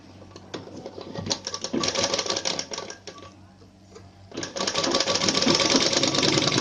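A sewing machine runs a straight seam joining an armhole, with rapid rattling stitching in two loud runs and a brief slowdown between them.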